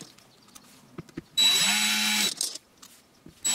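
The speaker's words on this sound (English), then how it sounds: "Start placing each screw one by one" A power drill whirs in one loud burst of about a second, driving a screw into wood, with quiet tapping before and another drill start at the end.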